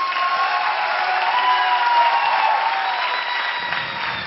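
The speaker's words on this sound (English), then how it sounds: "I think the claps should get louder for this wonderful performance." Steady, dense applause from a large audience at a film festival inauguration, loud and sustained throughout without a break.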